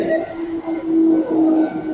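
A train passing at a railroad crossing in Chitose-Karasuyama makes a loud, sustained rumble with a steady tonal ringing running through it.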